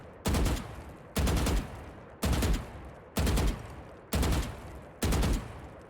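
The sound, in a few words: burst fire from a gun in the video game Valorant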